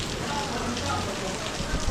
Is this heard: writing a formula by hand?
no